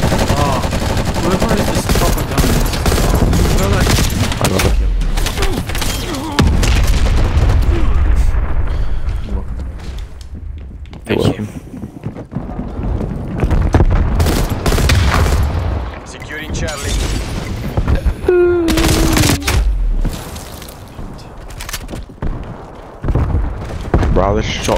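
Gunfire erupts in a Call of Duty: Black Ops Cold War match, with loud shotgun blasts and bursts of automatic fire mixed with explosions and game effects, while a player talks over the action.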